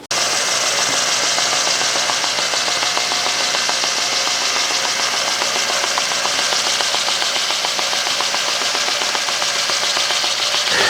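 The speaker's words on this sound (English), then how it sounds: "Now that we have the tire thoroughly sanded, opened up to fresh rubber" Steady, continuous abrasive grinding of a race car tire being sanded down to fresh rubber, loud and close with a constant mechanical whir throughout and no talking.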